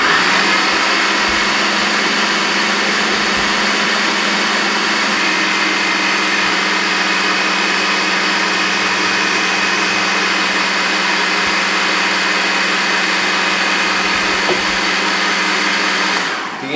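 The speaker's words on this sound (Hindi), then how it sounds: "चॉपर को मैंने नहीं रोका, ये सिर्फ आपको दिखाने के लिए मैं रोक रहा हूं बार बार" An electric chopper whirs continuously while blending cooking oil into homemade restaurant-style mayonnaise, a loud, steady motor hum with a bright whine that holds unbroken before cutting off at the end.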